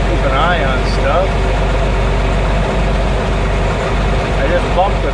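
An 8820 tractor engine idles with a steady, low, rumbling chug, close and loud, with a voice murmuring intermittently beneath it.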